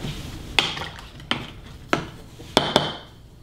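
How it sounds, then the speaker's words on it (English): A spoon knocks against a pot while stirring a hot apple cider mixture, five distinct close clinks spaced unevenly over a low background murmur, with no speech. "you're just going to mix this up before you put in"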